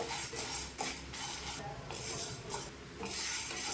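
Chana dal and dried red chillies being dry roasted in a pan, with steady scraping and stirring of a spoon against the metal and light rattling of the lentils, close and continuous with no talk.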